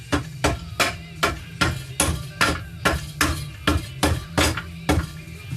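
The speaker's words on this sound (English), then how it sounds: "tap it straight down with the butt of my hammer." A hammer butt taps a 4L60E transmission center race straight down into place, a steady run of about a dozen sharp metallic knocks at an even rhythm, close and clear.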